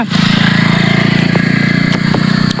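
A motorcycle passes along a road at night. Its steady, loud engine drone hums close by for a few seconds, with faint clicks over it.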